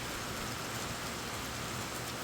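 Steady rain falls outdoors as a continuous, even hiss of drops striking surfaces, moderately loud and unbroken throughout.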